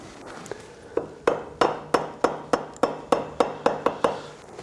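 Hammer tapping a part on a Triumph Trident T160 motorcycle, about a dozen sharp, evenly spaced knocks with a slight metallic ring, close and clear against a quiet workshop.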